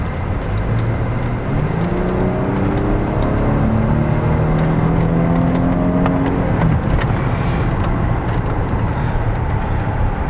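A 2014 Mercedes S400 Hybrid sedan accelerating in manual sport mode, its engine note climbing steadily through several paddle-shifted gears, loud and continuous from inside the cabin.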